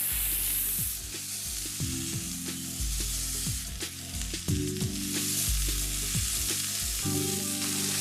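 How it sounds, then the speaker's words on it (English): Marinated mushrooms sizzling on a grill, a close continuous sizzle with sharp clicks and clatter of handling, while a steady low tonal hum, likely background music, runs underneath throughout. "we're just gonna put the mushroom on the grill"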